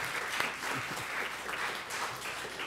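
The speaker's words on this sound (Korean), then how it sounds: "박수를 칠까요?" Congregation applauding during a church Sunday service, a steady wash of many hands clapping at once, moderately distant and without speech.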